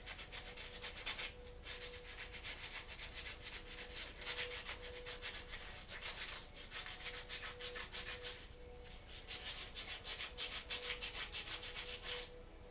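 Worn, crumbling old sandpaper rubs steadily over bleached antler, giving a continuous close-up scratchy rasp with rhythmic strokes and no talking.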